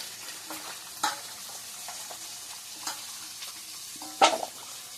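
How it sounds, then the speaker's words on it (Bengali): Fish fries in oil alongside potatoes, a soft continuous sizzle broken by a few sharp utensil scrapes and clinks, one louder clatter near the end. "আলুতে মাছ ভাজাটা চলছে"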